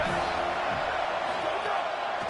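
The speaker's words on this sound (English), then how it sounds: "This crowd ready to make its presence known." Stadium crowd at a football game roaring steadily and loudly, a dense wall of cheering and shouting voices that holds without a break.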